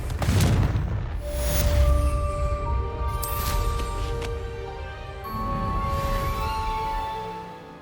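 A Confringo fire spell erupts in Hogwarts Legacy, a series of booming blasts with crackling, ringing tones layered on top, swelling and easing across several seconds at close range.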